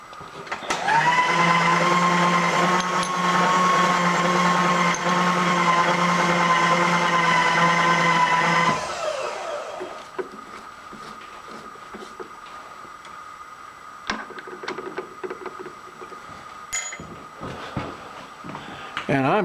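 A 1/2 inch machine reamer, half a thousandth undersize, cuts a bore on a lathe for a steady rest: a loud, sustained whirring tone for about nine seconds, then stops and gives way to quieter shop clatter and small knocks.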